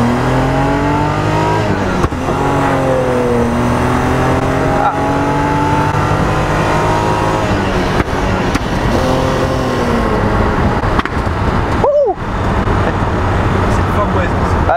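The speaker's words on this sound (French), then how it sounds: "Il y a les claquements de l'échappement qui résonnent contre les montagnes à côté." A Datsun 240Z engine revs loudly and steadily near mountains, its pitch rising and falling through several swells over the whole stretch, with a brief dip near the end.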